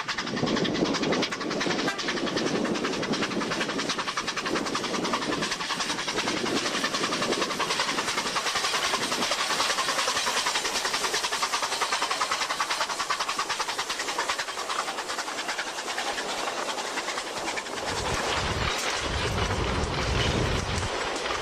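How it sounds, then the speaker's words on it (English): A steam train runs through the countryside of southern Argentina, a continuous loud rush of wheels and carriages with rhythmic clatter, heard close and steady for the whole stretch. "the train left early, so we followed it for a while."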